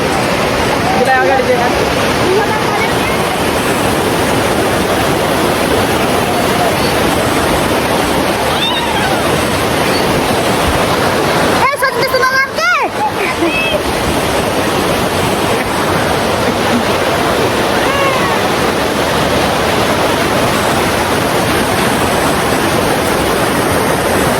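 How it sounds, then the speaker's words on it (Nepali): Constant heavy roar of a fast-flowing river close by at Jhurunge bridge, Nepal, loud and unbroken throughout, with faint voices occasionally under it. "हजुर यता खोला छ"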